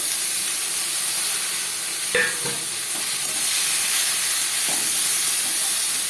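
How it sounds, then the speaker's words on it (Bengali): Fish fat frying in a pan with onion and garlic, a steady bright sizzle and hiss throughout with a few soft stirring knocks, close and continuous with no talking. "মাছের তেলটা দিয়ে ভালো করে ভেজে নিতে হবে"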